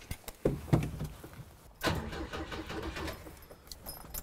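A Volvo P1800 built by a 16-year-old in the 1970s, needing choke: keys jangle and clicks sound, then the engine cranks and catches into a steady, rough, close idle.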